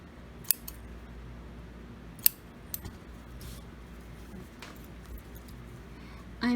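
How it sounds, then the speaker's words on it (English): Scissors snip off loose thread in a few sharp, isolated clicks spaced over several seconds, close and quiet against a soft room background. "If you have any extra thread, just snip it off."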